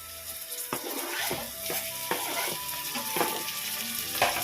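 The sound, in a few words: onions and tomato sautéing in a pan for kothu porotta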